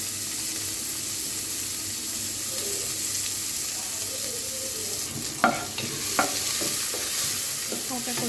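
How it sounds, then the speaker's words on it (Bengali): Chopped onions fry in a pan with a steady, close hiss of sizzling oil that runs throughout, broken near the end by a few sharp clinks and scrapes of stirring. No one speaks. "তো প্রথমে দিয়ে দিব হচ্ছে পেঁয়াজ কুচি।"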